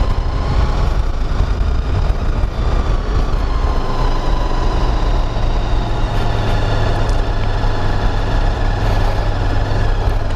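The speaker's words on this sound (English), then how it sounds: "that's a bike coming down actually" A motorbike engine rumbles steadily down the steep, narrow Hardknott and Wrynose mountain passes in the Lake District, a continuous loud drone with a low throbbing note that holds throughout and carries a faint higher whine over it.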